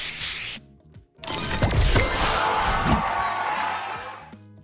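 A video game booster effect fires off in a bright, hissing spray burst after a short chime, with sparkly crashing and tinkling layered over electronic music that drops out and returns.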